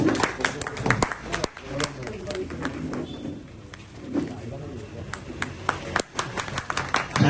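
An audience at a village community iftar gathering claps through a prize-giving, a near, dense patter of many hands with brief pauses and uneven swells, with people talking over it.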